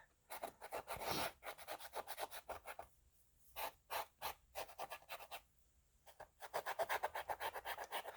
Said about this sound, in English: let's see what that does if we take a cotton bud and kind of scrub it around